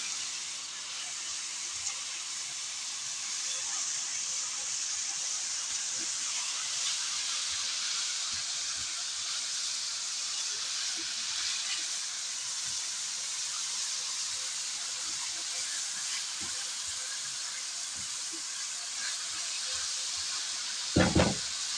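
Vegetables sautéing in a pan for Egyptian shawarma give a steady, even hiss of sizzling that runs throughout, with faint scattered crackles and a brief knock near the end.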